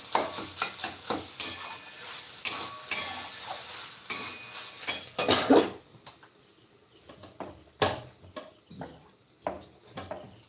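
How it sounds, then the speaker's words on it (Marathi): Brinjal sautés in a pan with a low background sizzle, broken by repeated scraping and clattering strokes of a spatula or spoon against the metal, fairly close and irregular, with no talking. "वांगे पण परतले जातात दोन मिनटं होऊ देऊ"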